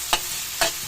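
Tofu frying in a pan for lumpia togue, a steady close sizzle with two brief sharp bursts of stirring or spattering about half a second apart.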